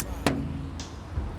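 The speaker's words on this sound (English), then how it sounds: "That is the sound of you hitting a sign that says St Andrews 17 miles." A single sharp thump of something striking a road sign on the Tay Road Bridge, heard once over steady traffic and wind noise, with a fainter knock following.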